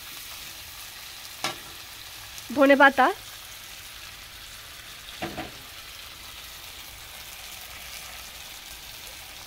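Mixed vegetables stirred and fried in a pan for a hilsa and vegetable dish, giving a soft, steady sizzle throughout, with one brief spoken word and a couple of light utensil knocks.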